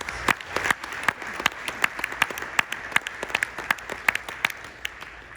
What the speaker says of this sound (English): let's first give Dan a round of applause